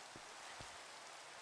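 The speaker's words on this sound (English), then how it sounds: "the rain came on quite quickly" Rain falls steadily in a Minecraft world, a soft continuous hiss with a couple of faint low thumps, heard alone without speech.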